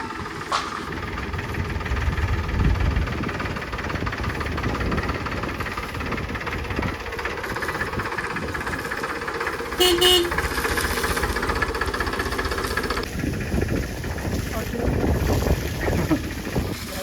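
A farm tractor engine rumbling steadily nearby throughout, with a brief horn toot partway through and some background noise, no one speaking.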